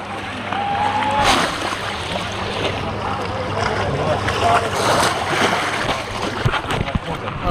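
Salty sea waves wash around a boat during a trip toward Dwarka, a loud, continuous rushing swell with splashes, heard up close beneath people talking.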